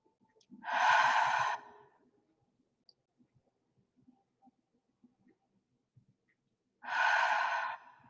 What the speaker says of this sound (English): So a couple of nice deep breaths on that.